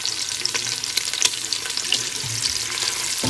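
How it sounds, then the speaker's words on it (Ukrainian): Pork belly for Ukrainian red borscht sizzles and fries in a pan, a steady crackling hiss with scattered pops, close and alone without talk. "Черевинка тушується."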